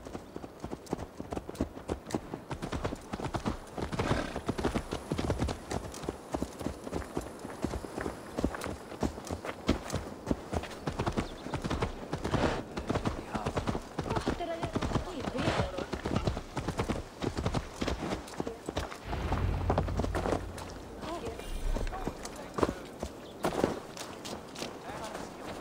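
Horse hooves clip-clop steadily through the whole stretch in Assassin's Creed Valhalla, a brisk rhythmic walk up close, with game voices and ambient sound layered underneath.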